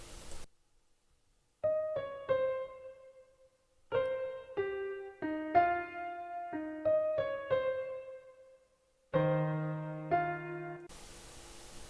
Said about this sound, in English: preset is called Steinway D Prelude and it sounds like this